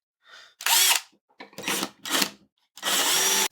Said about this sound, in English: I just finished drilling out all the holes in the face frame for the base cabinet